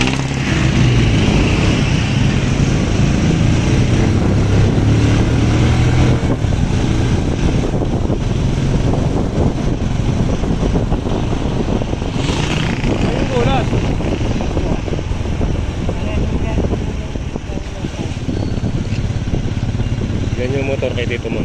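A motorcycle engine runs steadily at close range on a street ride, its drone heavily mixed with wind buffeting, and voices talk over it now and then.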